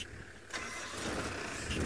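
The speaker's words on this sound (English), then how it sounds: "I'm just going to have to move the car" A safari car's engine catches and turns over as the vehicle is moved, a short close broadband rumble that swells and keeps running, with no talk over it.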